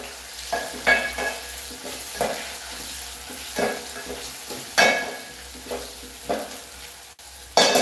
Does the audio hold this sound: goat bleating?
no